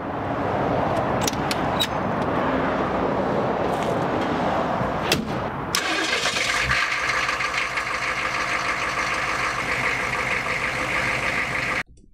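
A Humvee's engine turns over and catches, then settles into a steady, loud diesel-like idle running alone until the end.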